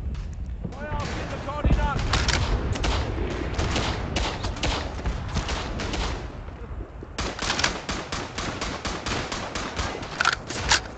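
Machine gun fire and artillery in a WWI trench combat video game set in the Vosges: rapid, loud bursts of gunfire with thumping impacts, sustained with short gaps, while voices talk underneath.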